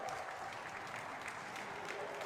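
Steady applause from a crowd of Costa Rican fans at a men's singles racquetball semifinal between Acuña and Mercado, dense clapping throughout with faint crowd noise and speech in the background.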